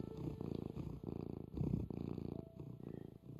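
A kitten purrs steadily and close by, a soft, rhythmic rumble that pulses continuously with no voices.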